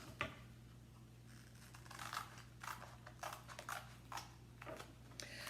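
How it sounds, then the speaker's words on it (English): Scissors cut out an adhesive craft stencil with faint, quiet snips and paper rustles at close range, irregular small bursts over a low steady hum. "I'm just going to cut that stencil out"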